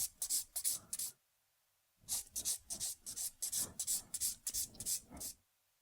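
Rapid strokes of a nail file lightly filing the top of an acrylic fade nail, a quick burst of scratchy rasps, a pause, then a longer steady run of rhythmic filing strokes, close and fairly soft.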